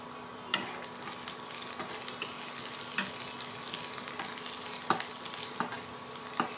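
Chopped onion and green chilli frying in hot oil in a pan for noodles, a steady close sizzle broken by sharp scraping stirs at irregular intervals.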